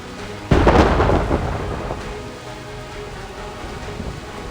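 A loud thunderclap breaks over a rainy storm in the video game Reverse: 1999, rumbling and fading into steady hiss of rain and wind, with no voices.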